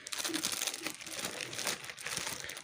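A plastic bag of lemon juice crinkles and crackles steadily as air is squeezed out by hand, a dense, close rustling that runs unbroken throughout.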